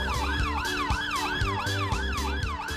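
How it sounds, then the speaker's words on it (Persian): Fire engine sirens wail loud and continuous during a firefighters' training drill, a fast repeating rising-and-falling electronic tone with an engine rumble underneath and no talk. "این آژیرا صدای ماشینای آتش نشانیه که دارن میان."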